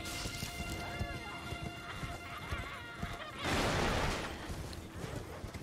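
A horse neighs and its hooves thud as it gallops through a video game world, with a sudden loud crashing burst partway through. Continuous game noise sits beneath it, and a player speaks.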